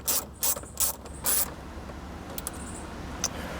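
A hand ratchet driving 10mm bolts into a 2016-2018 Subaru Forester dash above the factory radio, giving a few short, loud clicking bursts close by, followed by quieter handling noise.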